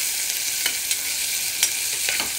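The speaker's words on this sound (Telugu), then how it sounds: "ఆహా, ఎంత బాగా వేగినాయో! ఇట్లా వేగాలి రెడ్గా" Ivy gourd pieces frying in a pan with masala, a steady close sizzle broken by short scraping bursts as the pieces are stirred, with no voices.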